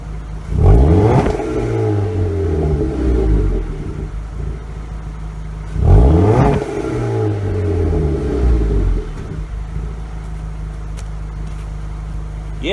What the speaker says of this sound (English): I'm going to let you hear the exhaust.